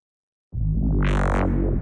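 A deep synth bass note with heavy harmonics starts abruptly and sustains, brightening as a buzzy upper layer swells in and fades out.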